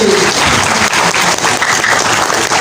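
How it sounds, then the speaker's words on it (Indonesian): Applause from an event crowd for the organizing committee team, a dense, loud wash of many hands clapping steadily throughout with no talk. "Tepuk tangan untuk tim panitia kita hari ini."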